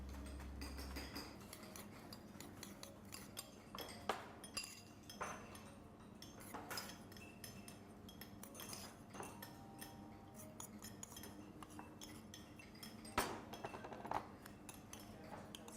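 Crumbled biscuit base being pressed down into a glass for a cheesecake-style dessert, with light clinks and taps of a utensil against the glass scattered through a steady background hum.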